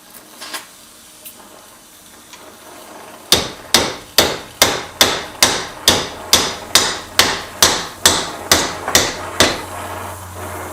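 Steel footrest pieces clamped in a vise and bent over for welding on a 650 scrambler build, struck with a hammer: about fifteen loud, sharp, evenly spaced metallic blows after a few faint taps, with no talking.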